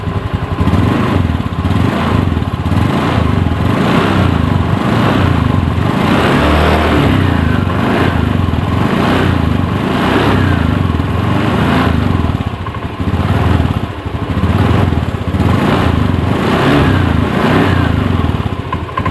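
A Honda Beat ESP motorcycle engine idles close and steady during a charging-circuit check, a loud even putter with a faint pulsing rhythm and no voices.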